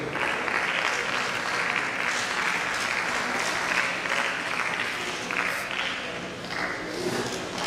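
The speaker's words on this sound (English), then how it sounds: "Let's give a round of applause as well as Professor Angola for the presentation." An audience at a university climate change lecture applauds the presenters, with dense, continuous clapping from a sizable crowd, fairly close and even throughout.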